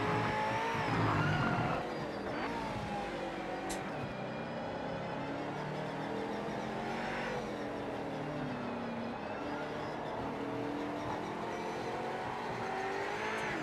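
Race cars in the sim racing game Project Motor Racing drone continuously with engines revving up and down, tire squeal and skidding mixed in, a dense, steady engine roar throughout with no talking.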